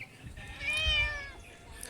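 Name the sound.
tomcat meowing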